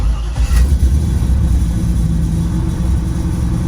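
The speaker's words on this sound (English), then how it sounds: "Yeah, starts right up. Idles right back down." LT1 V8 engine in a car running close by, a loud steady low rumble of idling after start-up, with no voices.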